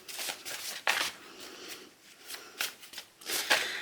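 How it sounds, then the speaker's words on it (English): A deck of stiff prompt cards for a reading game is clumsily shuffled up close, producing several quick ruffling bursts and riffles with short pauses between them. "I can shuffle normal cards, just these ones are a bit more difficult"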